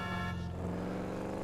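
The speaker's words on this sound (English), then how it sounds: "Honk at me, I'll honk at you." A car horn honks in the GTA 5 video game, a sustained tonal blare that holds steady for over a second, loud and close, with engine rumble underneath.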